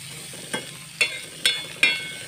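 Vegetables for capcay being stir-fried in a pan, with four short scraping, sizzling bursts of the spatula spaced about half a second apart over a low steady background.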